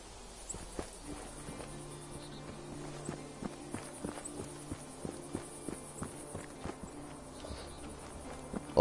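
Cow hooves clop irregularly in a PS4 video game, a string of soft, close, evenly spaced knocks over a quiet low hum, with no talking.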